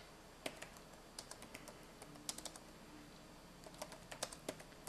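Quiet, close keyboard typing: irregular bursts of light key clicks tapping away in uneven rhythm, with no talking.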